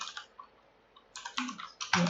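Soft, quick keystrokes on a computer keyboard come in a few small bursts of clicks, faint and close, with a brief pause between them.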